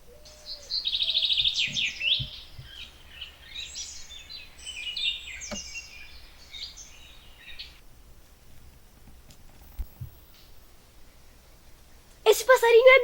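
A small bird chirps in a forest, with a flurry of bright, rapid tweets early on, then scattered quieter calls and a sharp burst of chirping at the end.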